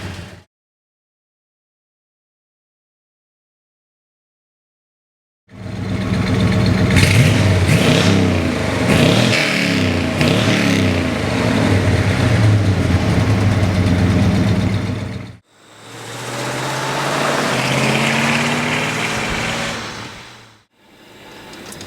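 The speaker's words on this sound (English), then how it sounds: "you got a 396 with a 4-speed rock crusher in here, and thing cranks on the first try" A 1970 Chevelle SS 396 V8 with a four-speed cranks after a silent start, then idles loudly with repeated throaty revs, cuts out briefly, and fires up again.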